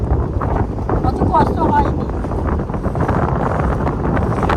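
Wind sweeping across the seashore at Digha at low tide, loud buffeting gusts rumbling against the microphone, with faint voices underneath.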